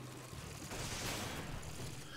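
Gunfire from the video game Resident Evil 5 comes as a dense, continuous burst of rapid shots that swells and fades again over a couple of seconds, fairly quiet in the mix.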